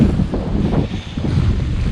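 Strong wind buffets the microphone on a stony beach on Iceland's south coast, a loud, continuous low roar with gusty swells and no voices.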